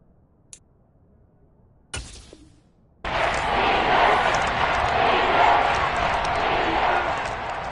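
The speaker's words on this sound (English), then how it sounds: "Crowd getting in it a bit already." A football stadium crowd during a third-and-ten snap in a Cleveland–Washington game swells into a loud, sustained roar after a quiet start broken by a couple of brief thumps.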